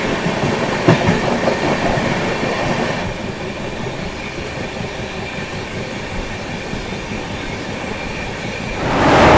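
Riding aboard the New Delhi–Howrah Rajdhani Express, the carriage rumbles loudly and continuously with wheels clattering over rail joints, the roar swelling near the end.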